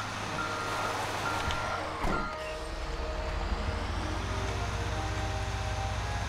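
A truck drives in the Grand Theft Auto roleplay game, a loud continuous engine rumble with a reversing-style beeping tone and a brief bump midway, no voices during it.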